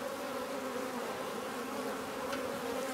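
Honey bees buzz steadily around the frames of a nuc hive being moved into a 10-frame hive: a dense, continuous, moderately faint drone with no talking.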